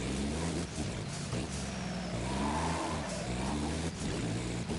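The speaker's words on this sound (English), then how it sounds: "listen to that 24-liter straight 6 diesel engine" A 24-liter straight-six diesel truck engine in a video game, a steady droning rumble with rising and falling harmonic tones as the revs shift, loud and continuous throughout.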